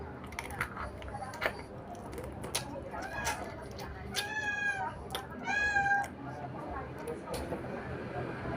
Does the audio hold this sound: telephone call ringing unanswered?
no